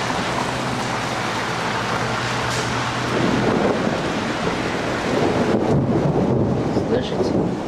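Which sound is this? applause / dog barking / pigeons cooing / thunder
thunder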